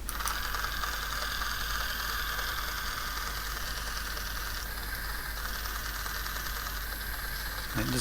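Small electric motors from a cheap Chinese kit run with a steady mechanical whir and faint ratcheting rattle, close and continuous throughout with no talking.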